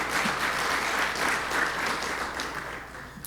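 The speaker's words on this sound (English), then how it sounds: "Let's give yourselves a round of applause for the service projects you've done." Rotary club members applaud at a meeting, a few seconds of steady clapping from a modest group in a room that gradually tapers off.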